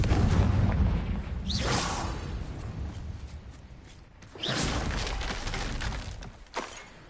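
A Confringo blasting spell in Hogwarts Legacy, two whooshing blasts a few seconds apart, each a sharp crackling burst trailing into a booming roar.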